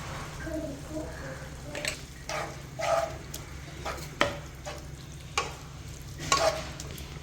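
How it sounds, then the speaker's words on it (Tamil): A spoon stirs spinach cooking in a pot with a soft scraping clatter, as the liquid bubbles and sizzles. The stirring comes in irregular strokes, close by. "இப்போ கொஞ்சம் கொதிக்குது பாருங்கள்"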